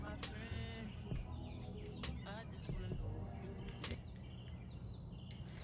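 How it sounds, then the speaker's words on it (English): Small birds chirp and tweet in quick, bright bursts, fairly faint against a low background murmur. "Can y'all hear the birds chirping?"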